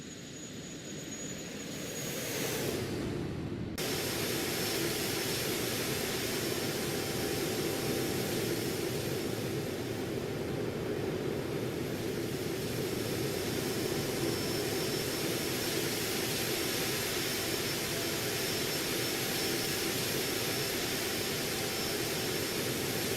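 Cirrus Vision Jet engine roaring steadily in flight, a loud continuous broadband jet drone with a faint high whine, swelling up after a brief quieter start and holding constant, no talk.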